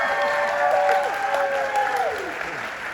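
An audience at a live stage show in Washington, D.C. claps in sustained applause, dense and steady, gradually fading toward the end, with a sliding tonal sound over it.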